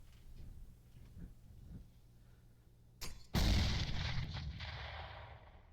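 Grenades going off in CS:GO: a sharp crack, then a heavy, loud blast that rumbles and fades slowly over a couple of seconds after a quiet stretch.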